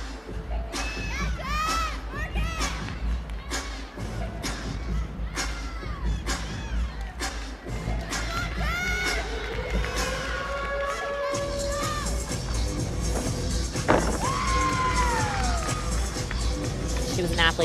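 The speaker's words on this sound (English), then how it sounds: "You got a big crowd here." A large arena crowd at a women's college gymnastics meet, LSU against Kentucky, roars and cheers continuously, with shrill shouts and whoops rising over the dense din and swelling toward the end.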